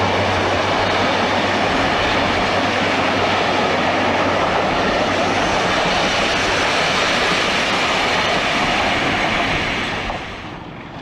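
A classic British diesel locomotive hauls its train steadily past, a loud sustained rumble of engine and wheels on rail that begins to fade in the last second.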